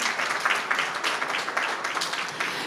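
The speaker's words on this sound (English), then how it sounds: "Can I hear a round of applause for Aditi as well, please?" Audience applause for an author at a book release at the Sharjah International Book Fair, a steady patter of many hands clapping at moderate volume, fairly close and continuous, with no voices over it.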